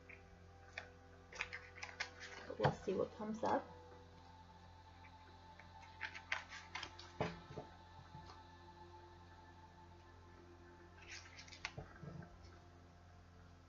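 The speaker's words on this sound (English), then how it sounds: "These are a little tricky to shuffle since it's a brand new deck." Crisp, rapid riffling and clicking of a stiff new deck of oracle cards in a few separate bursts, close up, with quiet gaps and a brief spoken remark.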